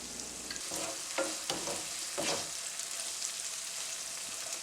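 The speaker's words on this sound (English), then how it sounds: "Just keep letting this go a little longer so we can get the onions caramelized." Onions caramelize in a pan for a vegan quinoa and three bean dish, a quiet continuous sizzle broken by a few spoon stirs early on.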